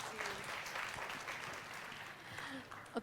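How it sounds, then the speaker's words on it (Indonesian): An audience at an online-course seminar gives a round of applause, a steady, fairly faint wash of clapping with a few voices murmuring underneath. "Kasih tepuk tangan,"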